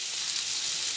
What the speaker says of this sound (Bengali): সব সবজির সঙ্গে এটা মিশিয়ে ভেজে নিচ্ছি